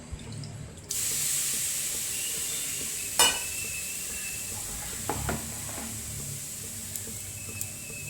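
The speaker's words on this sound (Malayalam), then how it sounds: "ഇപ്പം അപ്പം ചുട്ടു തുടങ്ങാണേ" Egg pathiri appam batter cooking on a hot pan gives a steady, even sizzle that starts about a second in and runs throughout, with a few sharp clinks of utensils over it.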